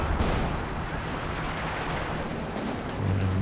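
Howitzer artillery barrage in the Company of Heroes 2 video game, a dense continuous rumble of distant blasts and gunfire, with a low heavy thump swelling near the end.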